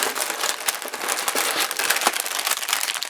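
Dense, continuous crinkling of plastic packaging, loud and close, with rustling crackles running throughout.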